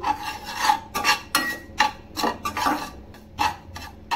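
Dry semolina being roasted and stirred in a pan for milk halwa, a close, repeated rasping scrape of the spoon against the metal in uneven strokes, with no talking.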